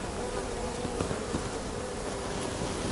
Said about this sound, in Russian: Смотрите, сколько пчел сидят на цветах.